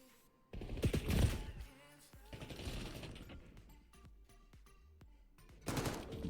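Gunfire in a competitive video game match, loud bursts early and late with sparse scattered shots between, heard under a caster's running commentary.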